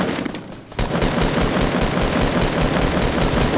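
Rapid, heavy gunfire from a hand cannon in the Fortnite battle royale video game, a dense burst of shots running loud and continuous after a brief lull at the start, with no talking.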